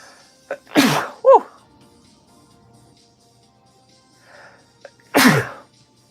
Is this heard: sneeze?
yes